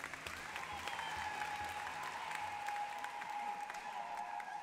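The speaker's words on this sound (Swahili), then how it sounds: "Sasa nikitaja mumpigie makofi," Audience applause inside a church, sustained and steady clapping from a congregation that fills the whole stretch at even loudness, with no voices standing out.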